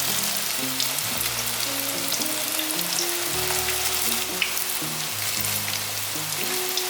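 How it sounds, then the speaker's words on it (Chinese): Strips of tofu skin deep-fry in a pot of hot oil, giving a dense, continuous crackling sizzle like heavy rain, loud and close, while soft background music plays. "热一锅油，把百叶豆腐放进来炸"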